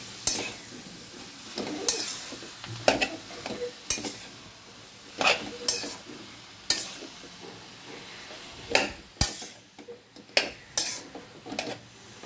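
A spatula scrapes and clanks against a pan while prawn chowmein is stirred, giving a dozen or so sharp metallic knocks and scrapes at an uneven rhythm over a faint sizzle, close and fairly quiet.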